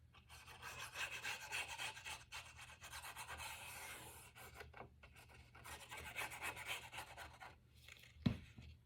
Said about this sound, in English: And just burnish it down